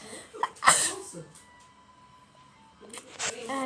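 A person lets out one sharp, close sneeze, followed by a quieter stretch with faint background sounds and a brief rise of noise near the end.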